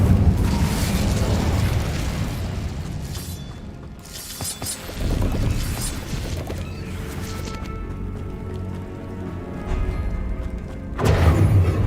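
Incendio fire spell cast in Hogwarts Legacy, roaring whooshing bursts of flame with loud booming swells, several blasts across the stretch over a busy rumbling game background.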